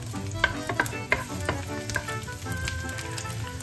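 Garlic fries in a hot pan, a close, steady sizzle broken by irregular crackles and pops, with occasional soft stirring clicks and no talking.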